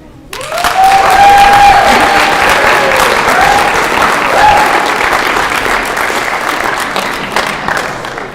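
Loud, sustained applause fills a high school scholarship assembly, with many hands clapping evenly close by, a few whistles and cheers rising above the clapping near the start, then steadily tapering off.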